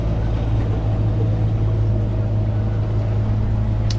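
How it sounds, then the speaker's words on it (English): A boat motor drones steadily and loudly throughout, a constant low engine rumble with rushing water and wind noise, on a boat ride through a floating village in Siem Reap, Cambodia. "And we're off again on this boat."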